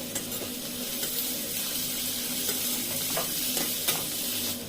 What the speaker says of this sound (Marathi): पहिल्यांदा कांदा नरम होऊ द्यायचा आहे